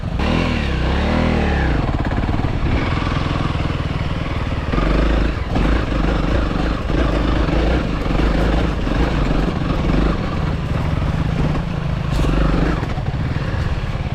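A motorbike rides in second gear along a rough track, its engine droning loud and continuous with rattling and shifting revs throughout.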